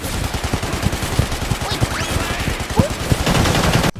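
Hu Tao's rapid attack combo in Genshin Impact, made of fast, rhythmic, percussive hits with whooshing swings and short effect chirps, close and continuous to a sharp cut at the end.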